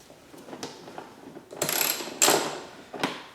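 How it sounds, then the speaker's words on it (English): A hand ratchet works loose the seat bolts on a motocross dirt bike, giving a few short clicking bursts close by, the longest and loudest near the middle, with no talk. "I'm going to go ahead and get these two bolts out."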